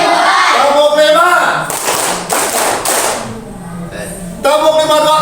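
A group in a teachers' coaching session claps a five-beat pattern in quick, loud bursts, with speaking voices before and after the claps.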